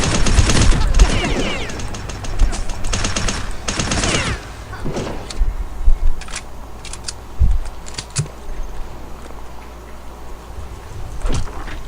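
Gunfire in the shooter game Return to Castle Wolfenstein: loud, dense bursts of rapid shots over the first four seconds, then sparser, quieter single cracks and clatters over a low steady background.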